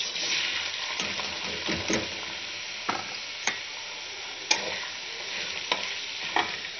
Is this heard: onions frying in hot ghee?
yes